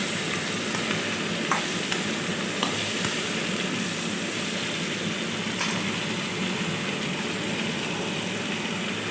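Brinjal (eggplant) pieces fry with salt in a hot pan, giving a steady, dense sizzle that holds level throughout, with a few faint clicks of stirring; no one speaks.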